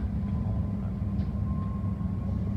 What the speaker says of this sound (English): Looks like there's an eastbound train about to pass through non-stop to Paddington.